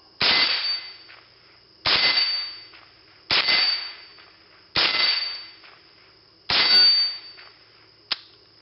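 .22 rifle shots at steel targets: five loud, sharp cracks spaced about a second and a half apart, each followed by a bright ringing clang that decays slowly, then a final short snap, close and with no talk.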